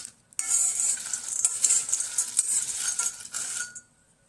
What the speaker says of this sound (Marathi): आता हे मसाले आपण 10 ते 12 मिनटे चांगले भाजून घेऊ कोरडे.